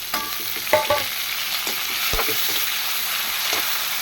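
Onion, curry leaves and tomato fry in a pan for a goat liver curry, giving a steady close sizzle with a few sharp stirring clatters early on and no talk.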